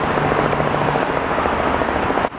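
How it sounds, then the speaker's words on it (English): Helicopters circle overhead, a steady broadband rotor and engine drone holding loud and constant throughout with no talk, cutting off sharply at the very end. "For some reason there's like helicopters circling around here."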